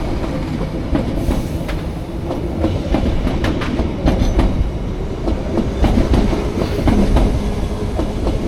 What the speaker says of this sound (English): the train coming in at Acton Town